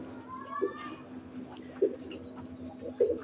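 Pakistani high-flyer pigeon chicks coo in a flying shed, a few low soft coos spaced across the moment, close and moderately quiet against a steady background hum.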